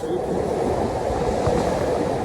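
A metro train at a station on a frigid Canadian night, a dense steady rumble of rolling wheels and machinery, loud and close without a break.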